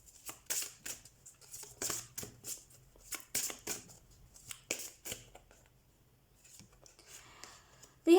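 Tarot cards are shuffled and handled in a series of soft, quick riffles and flicks, with brief pauses between bursts, and the noise grows quieter toward the end.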